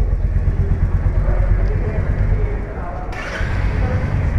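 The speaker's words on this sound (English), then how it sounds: "So here is the exhaust note." A Royal Enfield Meteor 350 motorcycle idles close by, its exhaust giving a steady, bassy low thump under a person speaking.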